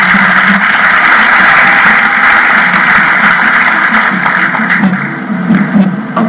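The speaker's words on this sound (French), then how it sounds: "je voudrais vous inviter à les applaudir" Loud, sustained applause from a large crowd at a party congress, a dense steady roar of clapping close and continuous that eases only slightly toward the end.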